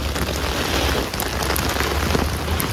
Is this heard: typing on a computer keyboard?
no